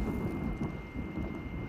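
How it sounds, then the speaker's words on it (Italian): Thunderstorm in the video game The Last of Us Part II: a low continuous roll of thunder under steady rain, alone with no voices. "Mamma mia, i tuoni. Si fanno sempre più forti."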